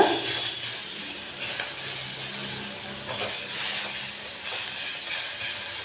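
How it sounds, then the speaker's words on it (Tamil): Chopped tomato and chilli powder sauté in hot oil with a steady, fairly loud hiss and sizzle that carries on evenly throughout, with occasional faint knocks of a spoon. "நல்லா வதங்கணும் இந்த பச்சை வாசனை போகிற அளவுக்கு நல்லா வதக்கிக்கலாம்"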